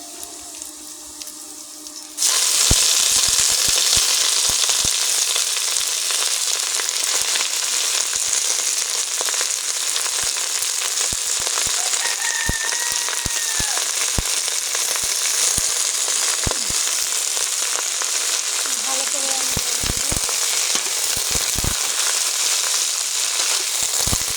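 Bathua greens with green chillies hitting a hot pan, a loud sizzle bursting in after a quieter start and holding steady and close, with occasional scrapes and clicks and no talking.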